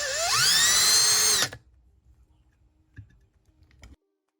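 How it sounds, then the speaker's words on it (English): A power drill bores a hole into a tumbler for a snow globe craft, a loud, whining burst of about one and a half seconds that cuts off abruptly, followed by a few faint clicks. "So first thing you want to do is drill your hole."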